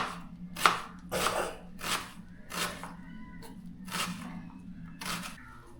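A knife chops onions on a cutting board in a steady rhythm, about two crisp strikes per second, close by.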